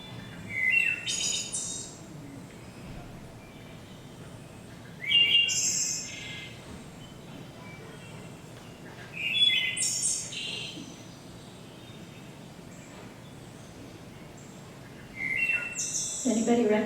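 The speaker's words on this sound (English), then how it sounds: "I'm going to play the song of this beautiful wood thrush." Recorded song of a wood thrush, a bird of eastern forests, plays as four separate fluting phrases spaced a few seconds apart over a quiet background hum.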